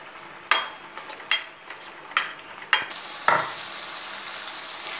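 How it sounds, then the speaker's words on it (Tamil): Tomato paste with salt sautéing in a pan for a Tamil fish curry, a soft steady sizzle with several sharp scraping stirs of a utensil against the pan, close and fairly quiet, no talking. "இப்போ தக்காளிக்காக கொஞ்சம் உப்பை சேர்த்து ஒரு 2 நிமிடம் வதங்க விடுவோம்."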